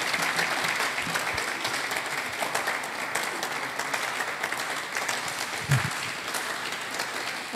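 A church audience applauds after a lecture, a steady sustained clapping from a sizeable crowd that holds at an even level throughout, with no speech over it.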